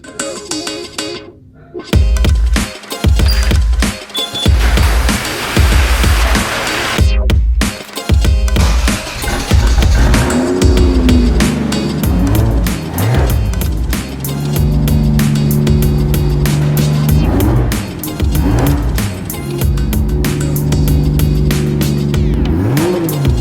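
A Toyota Supra MKIV engine is revved repeatedly, loud and close, with sharp bursts and brief drops in the first half, then sustained revving with a rising and falling pitch.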